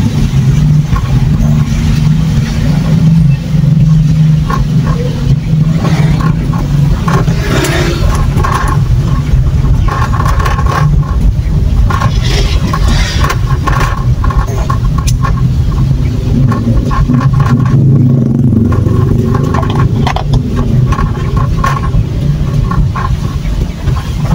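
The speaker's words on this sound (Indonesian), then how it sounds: "Karena memang macet banget di sini kalau pagi, sore atau pas malam begini orang pulang kantor ya." Heavy evening rush-hour traffic in Medan, a steady loud rumble of cars and motorcycles with revving engines passing close by, continuous for the whole stretch with no talking.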